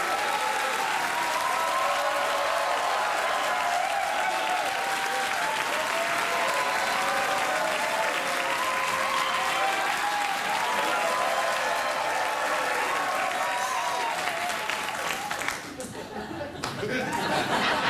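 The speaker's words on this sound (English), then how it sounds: "Go ahead, try clapping." A studio audience at a late-night talk show bursts into sustained, dense applause with scattered chuckles and laughter. The clapping stays loud and continuous, then cuts off abruptly near the end.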